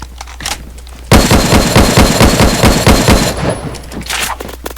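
Suppressed Dragunov SVU rifle fire in the Phantom Forces video game, a fast run of closely spaced shots lasting over two seconds, loud and up front with no talking over it.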